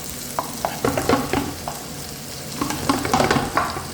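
Shrimp and red chilies stir-fry in a hot pan, giving a close, continuous sizzle with repeated spatula clacks and scrapes in irregular bursts, and no talking.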